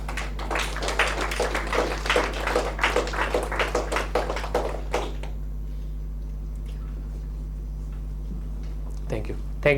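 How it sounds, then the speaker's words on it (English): An audience at a social impact conclave event in Goa applauds an influencer, a burst of clapping lasting about five seconds before fading out, followed by a brief quiet stretch and a short sound at the end. "Huge round of applause for Riya Narvekar."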